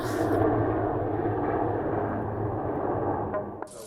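Helicopter noise at a heliport in Yongsan, Seoul, carries as a loud, steady low engine drone and rumble that holds for several seconds before easing slightly near the end, with no talking.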